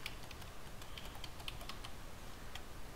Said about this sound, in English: going to type my password